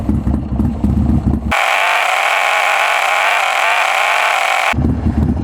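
A 2003 Buell XB9S motorcycle engine idles at about 800 RPM, its low, steady rumble clear at the start and end, with a flat hiss covering the middle stretch.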